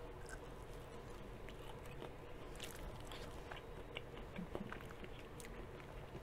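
Close, steady mouth sounds of someone chewing crunchy breaded catfish, with soft repeated bites and crunches running continuously and at a low level, with no talking.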